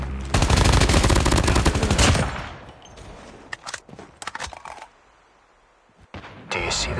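Rapid automatic gunfire in Call of Duty Mobile, a loud dense burst for about two seconds, then scattered single shots and clicks, a near-silent pause, and another burst at the end.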